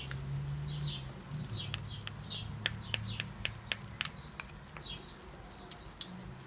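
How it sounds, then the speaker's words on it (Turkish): Onion with tomato and pepper paste sautés in a pan, giving a soft, steady sizzle with scattered small crackles and pops; faint and close, with no talking. "Belli aralıklarla karıştırarak 2-3 dakika kadar bir süre salçamı, soğanımı güzelce kavurmaya devam ediyorum"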